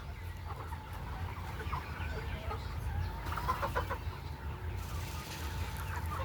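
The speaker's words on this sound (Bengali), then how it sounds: "এটা একটা মুরগ।" Chickens cluck close by on a farm over a steady low background hum, with a few louder, sharper clucks partway through.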